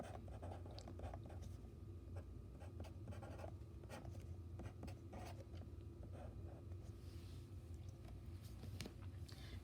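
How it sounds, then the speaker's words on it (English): Handwriting a math formula for absolute value functions produces faint continuous scratching strokes with short taps and pauses, quiet and close, with no talking. "Let me write the formula up here."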